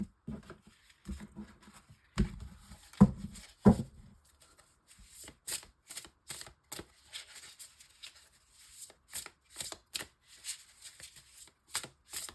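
Tarot cards shuffled and drawn by hand, with a few thumping taps on a table early on, then a steady run of crisp riffling and card-slapping strokes, close and alone without talk.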